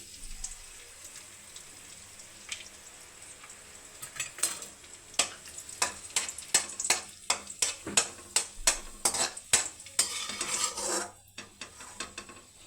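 Raisins frying in a pan for carrot halwa: a quiet sizzle with a run of scraping, stirring strokes against the pan in quick succession, no voices.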